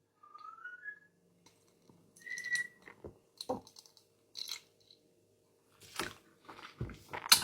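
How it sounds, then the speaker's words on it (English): A parrot whistling in another room, a few short rising whistle notes early on, faint and distant, among scattered clinks and handling noises nearby. "You might be able to hear Smokey the Parrot whistling in the other room."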